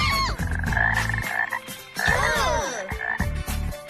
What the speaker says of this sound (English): And you can keep your frogs as pets.